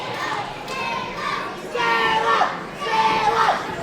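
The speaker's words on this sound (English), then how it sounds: "You can hear the crowd" A wrestling crowd at a live CCW Pro Wrestling event roars and cheers in swelling waves, with excited voices and shouts rising and falling across a busy arena din.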